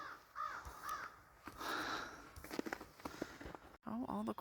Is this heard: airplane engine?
no